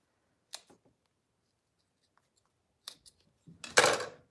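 Scissors trimming material for a sewn wristlet: a few quiet snips separated by silence, close and faint, ending in a louder cluster of cuts.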